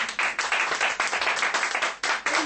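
A small group claps for the winner of a musical chairs game, a brisk close patter of many hands that dips briefly and picks right back up.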